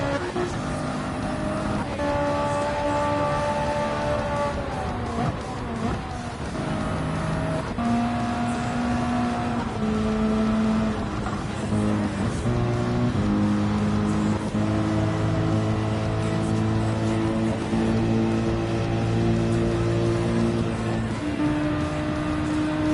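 Race cars in a video game whining through the gears, with engine pitch rising and falling as they accelerate, shift and brake, loud and continuous with several cars overlapping and no talking.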